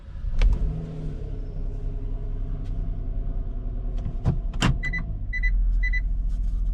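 A 2018 Kia Sedona, which has a front left parking sensor fault, is started up inside the cabin, giving a short cranking burst and then a steady low engine idle. A few electronic warning chimes follow near the end.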